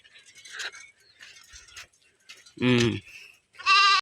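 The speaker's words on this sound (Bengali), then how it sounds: "ছাগল একটা আইছে" A goat near a village school gives two loud, close bleats in the second half of the clip, following quieter talking voices.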